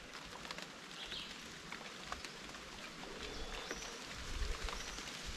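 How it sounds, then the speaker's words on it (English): Grasshoppers on a trek to a volcano in Trinidad produce scattered ticking chirps that patter like raindrops, faint and spread over a steady outdoor background with no speech. "So guys, these are grasshoppers."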